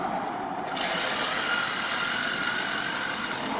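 An HG-P417 RC 4x4 pickup truck in four-wheel crab-walk steering mode drives down a driveway, its small electric motor giving a continuous whirring hum over gritty rolling noise, moderately quiet and steady with no voices.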